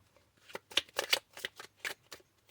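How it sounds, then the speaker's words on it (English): Oracle cards are riffled and shuffled close by, making a quick run of crisp papery flicks in irregular bursts over a quiet low hum. "last shuffle, because I really want you to come out"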